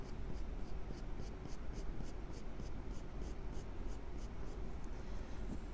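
Graphite pencil shades on paper in quick, rhythmic strokes, a soft close scratching that repeats steadily with regular lifts and presses, heard alone without talk.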